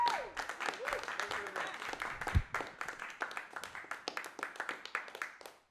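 A comedy show audience applauds after a performer is introduced, steady clapping from a crowd filling the room, rising and fading in waves with a host's voice heard over it early on.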